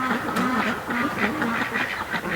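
Muscovy ducks at a lake give a steady run of close, hoarse quacks and low calls, several birds overlapping with no talking.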